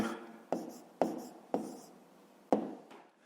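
Numbers are written on a board in five sharp, separate strokes, each a crisp tap followed by a short scratchy drag, spaced about half a second apart in a quiet room.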